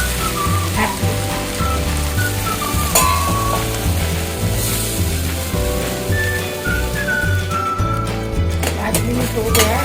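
Okra (bhindi) fries in a pan with a constant sizzle and crackle, broken by occasional sharp stirring clinks, while a voice talks over it.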